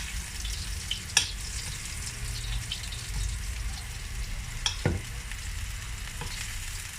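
Steady sizzling and crackling of garlic frying in a home frying pan while cooking steak, with occasional clinks and scrapes of a utensil stirring.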